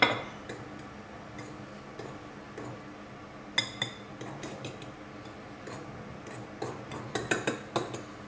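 Flour and pepper mixed in a bowl with a utensil, soft scraping with light clinks and taps against the bowl, close and fairly quiet, the clinks growing more frequent toward the end.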